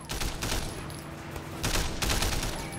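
Gunfire in Sleeping Dogs: a few rapid bursts of shots, close and loud, clustered at the start and again near the end with a brief lull between.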